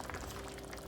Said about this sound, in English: After a few minutes of cooking the tomato sauce